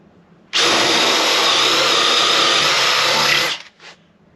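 A Craftsman V20 brushless hammer drill with a half-inch bit bores a hole in one loud, steady whine of about three seconds, then cuts off, followed by a brief faint spin-down blip.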